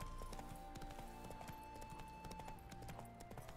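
Steady clip-clop of horse hooves in The Witcher 3, a quick continuous rhythm close by, over constant game music and ambience.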